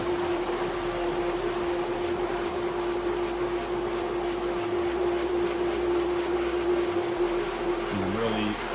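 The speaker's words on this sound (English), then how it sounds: "I'm just sitting here waiting for the pump to prime." A pool and spa pump runs while priming, giving a steady motor drone with a constant hum and low churning underneath, near and even, joined by a brief voice at the end.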